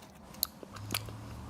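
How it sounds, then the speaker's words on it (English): Teeth bite a small crunchy cucamelon in half, giving two sharp crisp cracks followed by soft close chewing, quiet and without speech. "I'm going to bite it in half."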